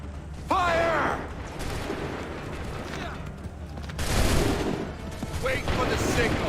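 Muskets fire in a volley on command during a battle in Assassin's Creed 3, a sharp burst of gunfire with a second crackling round of shots a few seconds later, and shouted voices in between.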